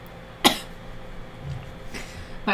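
A single sharp cough close to the microphone, followed by a few fainter throat sounds and breaths in a quiet room.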